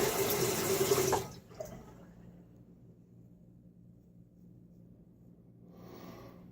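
A razor is rinsed under a running tap, a close, steady burst of water for about a second that cuts off abruptly, followed by faint drips and low room noise, with a brief softer water sound near the end.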